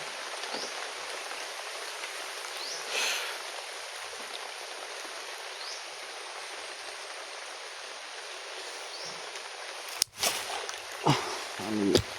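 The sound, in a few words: rain falling nonstop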